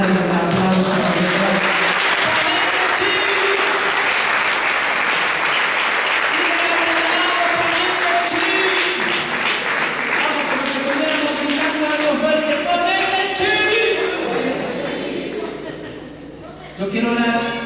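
Congregation in a Spanish-language church service applauding, sustained loud clapping filling the room for over fifteen seconds with scattered voices and cheers mixed in, tapering off near the end.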